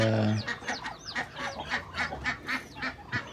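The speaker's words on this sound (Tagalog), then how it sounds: "Ayan sila, at talaga naghihintay. Ika nga, ating mga manok." A busy flock of poultry clucking and squawking in quick, overlapping bursts, close by, with a brief low hum at the start.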